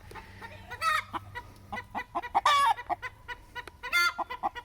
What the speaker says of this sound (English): This is our rooster, Norman.